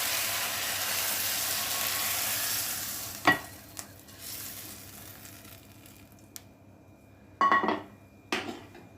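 Tempering for village-style pappu charu sizzling in a pan, a hiss that fades over the first seconds, then scattered sharp clinks and scrapes of a spoon against the pan.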